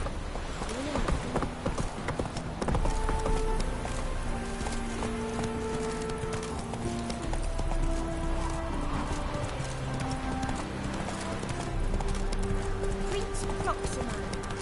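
Steady clip-clop of the horse Roach galloping in a PS4 video game, a continuous rhythmic hoofbeat with a neigh, under game music and a person talking.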